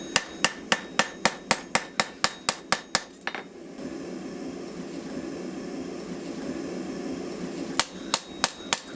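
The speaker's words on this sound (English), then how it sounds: "I could hammer this section here down a bit nicer." A hammer strikes hot steel in a rapid, even series of sharp ringing blows while forging a Viking knife with an antler handle, then a pause filled by a roaring forge before a few more quick strikes close it out.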